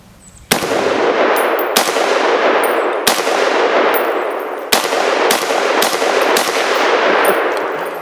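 About seven loud rifle shots, 7.62 and 5.56 rounds fired at a cinder block, crack out at irregular intervals, each a sharp blast with a long ringing outdoor echo that overlaps the next.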